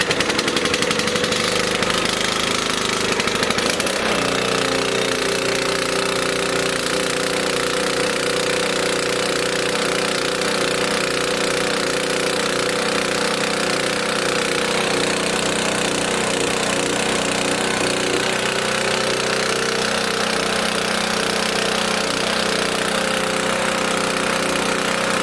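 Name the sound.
pull-start small engine running on choke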